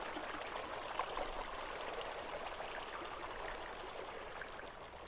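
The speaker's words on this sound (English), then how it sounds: "Now, the water is just kind of falling there." Water falling in a level built in Dreams on PS4, a soft, steady rushing and trickling stream that continues without a break, faint and unaccompanied by speech.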